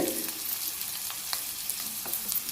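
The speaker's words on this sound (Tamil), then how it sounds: "இது எல்லாத்தையும் அந்த எண்ணெயிலேயே நல்லா வதக்குறோம்" Radish, shallots and other vegetables sauté in oil in a pan, giving a close, steady sizzle dotted with quick stirring scrapes and light taps.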